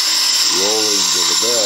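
High whining tool noise from an acorn turning on a wood lathe with a detail tool, steady and close, with a voice talking over it.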